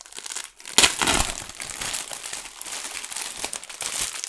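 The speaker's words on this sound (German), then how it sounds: "wir holen sie direkt mal aus der Folie raus" A German kids' magazine with a LEGO Batman card is pulled out of its plastic foil wrapping, giving a loud burst of crinkling and tearing plastic followed by steady, close rustling and crumpling.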